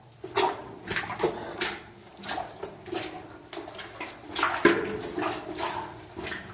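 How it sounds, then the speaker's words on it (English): Water runs slightly downhill through an abandoned mine adit, a trickling flow broken by uneven splashes and scraping bursts as someone moves through it. "all the water is running just slightly downhill"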